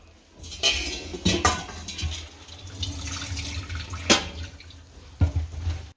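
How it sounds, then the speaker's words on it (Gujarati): Water trickles and drips from soaked puffed rice through a strainer with a few clattering knocks of metal and dishes, close by, no voices. "મમરાને આ જારીને મદદથી બધુંય પાણી નીતારી લેશું"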